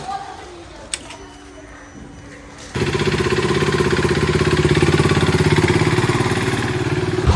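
A motorbike in Kolkata starts up after a few seconds of quiet and then idles close by with a loud, steady, rapid clattering throb that continues to the end.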